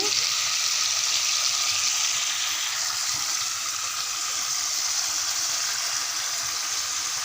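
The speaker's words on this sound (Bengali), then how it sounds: "ভালোভাবে দেখুন এই মাছটা আমি রান্না করছি" Soft-fleshed fish frying in a pan, a steady unbroken sizzle with a bright hiss that holds evenly throughout, close and moderately loud.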